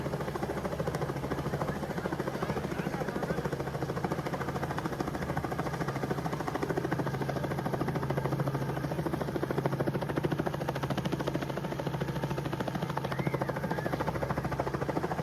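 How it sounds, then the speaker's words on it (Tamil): Continuous helicopter rotor and engine drone from a helicopter showering flowers over a temple consecration ceremony, loud and steady throughout with a constant buzzing throb and no pauses. "குடம் முழுக்கு நடக்கும்போது ஹெலிகாப்டர் வந்து"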